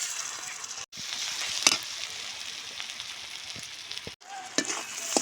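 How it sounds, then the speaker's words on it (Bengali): Onions fry in a pan with a loud, steady hiss of sizzling oil and occasional stirring scrapes, the sound dropping out briefly twice before resuming. "পেঁয়াজগুলো বাজিয়ে নেবো ভালো করে।"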